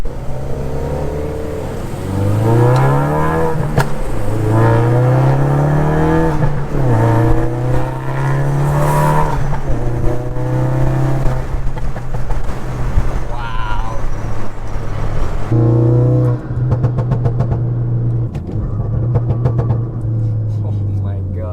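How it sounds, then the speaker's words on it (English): A Ford Focus RS with an XForce Varex exhaust and its valves open accelerates hard in sport mode on a highway on-ramp, the engine note sweeping up through the gears in loud rising pulls from inside the cabin. "This exhaust is so much louder and sounds so much nicer now."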